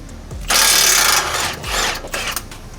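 An impact gun works a suspension nut loose during a swap from air ride to coilovers. Two loud, close bursts of rattling are separated by a short pause, then a few lighter taps follow, with no talking.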